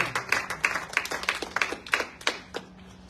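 An audience at a church conference claps in a brisk, even rhythm, about ten sharp claps in three seconds, heard fairly close and with no talk over them.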